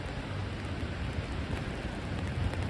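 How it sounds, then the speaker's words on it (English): Steady rain falls outdoors on a New York City street in Manhattan, a dense, even hiss of drops on pavement with low rumbling city background and no voices. "it's raining all day"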